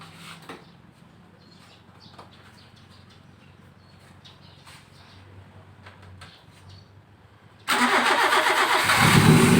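A car engine fitted with a motorcycle carburetor is started for a test run: after a long, quiet stretch of faint background noise, it abruptly cranks and catches, running loud and close through to the end.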